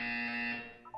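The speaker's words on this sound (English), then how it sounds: "You will hear a buzzer." A loud electronic buzzer from the video game Portal 2 holds one steady, harsh tone for most of a second, then fades and ends with a short higher chirp.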